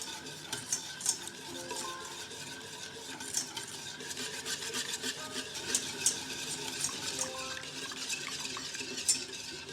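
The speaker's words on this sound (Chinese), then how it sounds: "再缓缓加入鲜牛奶，一边加入一边搅拌，让它们充分融合。" Steady whisking with a hand whisk as fresh milk is blended into a sugar and egg mixture for lava-yolk mooncake filling, a soft rhythmic scraping in a bowl.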